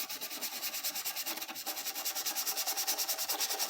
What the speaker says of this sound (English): I'm gonna use this detail brush and kind of just give it a nice scrubbing